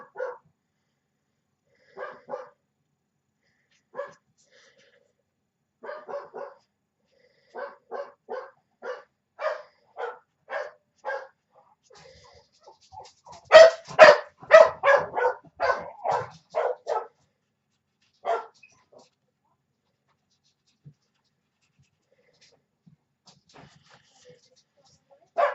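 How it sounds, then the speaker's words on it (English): A pet dog barks in scattered single yips and short bursts indoors, with a dense flurry of barking in the middle before it tapers off into quiet. "That silly dog of mine is driving me bananas today."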